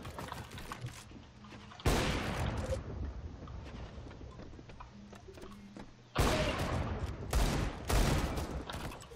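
Gunfire crackles in CS:GO in several loud bursts of rapid shots, separated by quieter stretches with faint clicks and distant pops.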